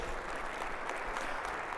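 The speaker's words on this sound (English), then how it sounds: "Round of applause for Joe." Steady applause from a conference audience at a pitch competition, a dense wash of clapping that holds at an even level throughout, with no voices on top.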